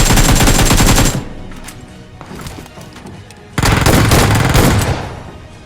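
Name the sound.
shotgun gunfire in the video game BGMI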